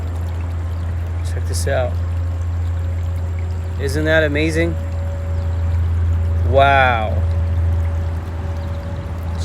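Heavy rainwater pours out in a steady continuous gush, a constant rushing flow that stays loud throughout while a person speaks excitedly over it in short bursts.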